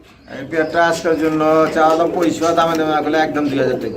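Fancy pigeons kept on a farm coo loudly and close, a steady rolling run of throaty calls overlapping one another, with someone speaking over them.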